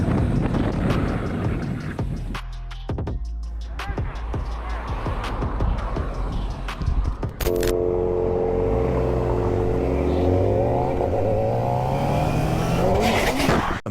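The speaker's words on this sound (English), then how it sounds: "Motorcyclist almost crashed at 130 plus km/h. Rear tire locked for 10 seconds." A motorcycle skids at over 130 km/h with its rear tire locked, giving a loud sustained engine and tire roar with rising and falling tonal sweeps, close and continuous throughout.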